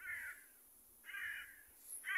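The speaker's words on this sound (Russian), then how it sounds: "Ворона." A crow caws in three separate bursts outdoors by a small river in winter, carrying clearly over a quiet background with nobody speaking.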